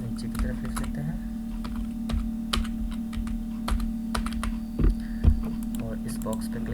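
Someone types steadily on a computer keyboard while filling in an Excel GST invoice, close, sharp key clicks arriving in irregular runs, with a couple of heavier taps near the end and a constant low hum underneath.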